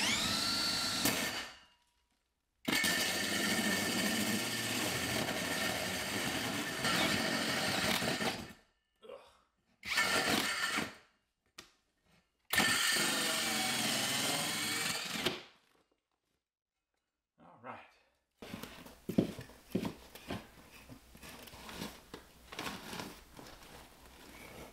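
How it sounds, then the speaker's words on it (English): A power drill bores a hole through a building wall for a 6-inch fume extraction duct, running in long loud grinding bursts separated by silent pauses, ending in rougher, uneven chattering as the bit works through. "I'm going to drill my hole straight through."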